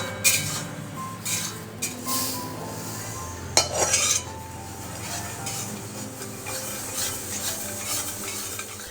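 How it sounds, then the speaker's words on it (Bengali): Foxtail millet and lentils being dry-fried in a pan, with a spoon scraping and clinking against the metal in irregular strokes over a faint, low sizzle, close up and without talk. "কাউন জলটা আর ডালটা আলাদা আলাদা করে ভেজে নেব"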